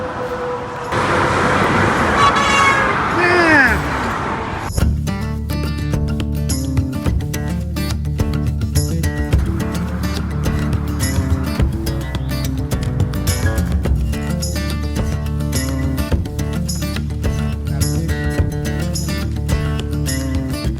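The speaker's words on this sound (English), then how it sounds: "Here we are coming up over the Turnpike Bridge. It's pretty loud with the cars." Steady roar of car traffic crossing the Turnpike bridge beside the Laurel Highlands hiking trail, loud and continuous, with passing vehicles blending into a constant rumble.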